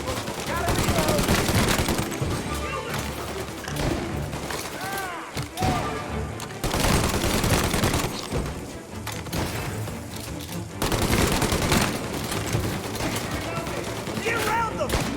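Heavy gunfire rattles almost nonstop in a Mafia: Definitive Edition shootout, with bursts of automatic fire and single shots over loud game action and shouted voices.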